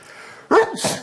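A single sharp sneeze bursts out after a quiet moment, loud and close, followed by a short breathy exhale.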